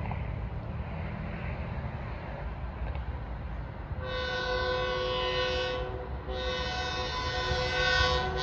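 A Long Island Rail Road M9 train approaches at speed through Pinelawn: a broad low rumble builds under steady rail noise, then the horn sounds two long, loud blasts with a brief gap between them.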